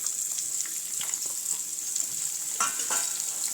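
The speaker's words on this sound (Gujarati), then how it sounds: "અને આ ડુંગળીને આપણે સાતળી લેવાની છે" Chopped onion sautés in hot oil with seasoning, a close continuous sizzle broken by occasional stirring scrapes and crackles, with no talking.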